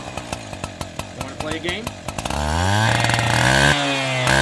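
A chainsaw in a film sputters in a string of rhythmic pops, then revs up into a loud, continuous snarling whine, close and under a spoken line.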